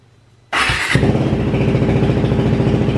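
A KTM 390 Adventure motorcycle engine cranks briefly, then catches and settles into a steady, close, loud idle with a fast, even mechanical pulse, heard alone.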